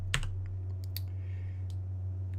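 A few sparse clicks of keys pressed on a computer keyboard, close but light, with isolated taps spread over a couple of seconds above a steady low electrical hum.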